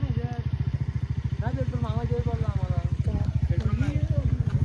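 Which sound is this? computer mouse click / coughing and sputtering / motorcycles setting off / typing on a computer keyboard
motorcycles setting off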